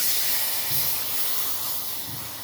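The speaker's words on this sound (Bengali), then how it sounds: "এবার আমি দিয়ে দিব নারকেলের দুধ।" Coconut milk hits a hot pan of spiced, fried masala and sizzles, a steady broadband hiss with faint low bubbling that stays fairly even throughout, with no talking.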